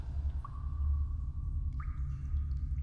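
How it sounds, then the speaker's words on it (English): Water drips in a dark cave, two faint, isolated plinks spaced over a second apart against a low rumbling background. "the drip of water to count off lifetimes"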